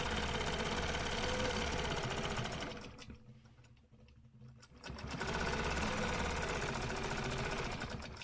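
A quilting sewing machine stitches along stencil lines, its rapid mechanical whirring running loud and steady, dropping away for about two seconds in the middle, then resuming.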